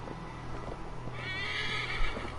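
A horse in the video game Assassin's Creed Valhalla lets out a single clear whinny midway, over a steady ambient game background with faint hoof sounds.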